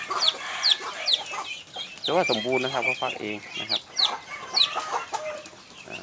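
A hen clucks alongside high peeping chicks while someone talks over them nearby.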